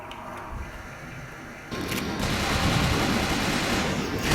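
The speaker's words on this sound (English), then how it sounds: "Machine gun." Machine gun fire in Resident Evil: The Darkside Chronicles, a sustained loud rattle of rapid shots that starts partway in and keeps going to the end over steady background game noise.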